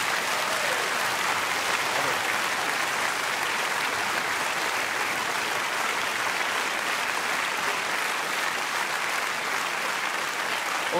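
Sustained audience applause at a folk music television show, a dense, steady wash of clapping hands filling the whole stretch without pause or talk.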